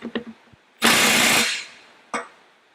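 A Milwaukee 2863 cordless impact wrench tightening bolts and stopping itself automatically: a loud half-second burst of rattling impacts that cuts off abruptly, with faint clicks before and a short second burst afterward, close up.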